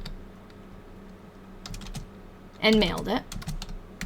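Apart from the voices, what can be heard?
typing on a computer keyboard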